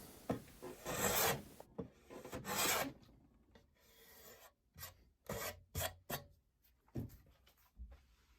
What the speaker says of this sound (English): it's just picking up the plane and just skimming down